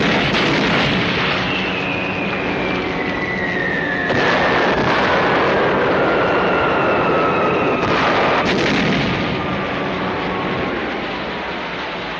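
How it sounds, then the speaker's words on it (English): Aerial bombing of a ship in an old film: long falling whistles of dropping bombs over a continuous roar, with heavy blasts booming in between. "General Mitchell has signaled, requesting permission to commence bombing"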